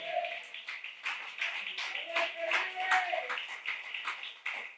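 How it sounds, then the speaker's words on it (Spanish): A church congregation clapping in rhythm during a Friday worship service, a lively steady beat of many hands with voices singing or calling out over it. "Aplaude al Dios del cielo."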